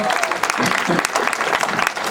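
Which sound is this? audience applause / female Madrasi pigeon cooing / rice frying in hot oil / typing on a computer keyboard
audience applause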